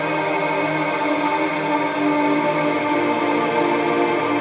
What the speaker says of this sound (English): you get a little bit of a kind of tape warble effect